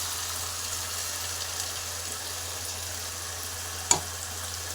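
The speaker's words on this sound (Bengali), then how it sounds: "সেখান থেকে একটু জল দিয়ে ভালো করে একটু কষিয়ে নেব।" Broken wheat (dalia) sautéing in a pan with a little water gives a steady, even sizzle throughout, with one brief clatter near the end and no talking.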